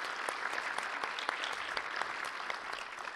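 Lecture audience giving quiet, steady applause for a court director, a soft even patter of many hands heard from a distance.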